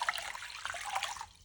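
Warm water pours into a bowl holding sourdough starter, a brief splashing trickle that is close and fairly soft, fading out after a little over a second.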